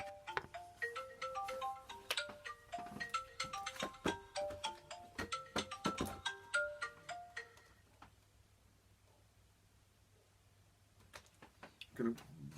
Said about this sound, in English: I'm sorry about my phone going off.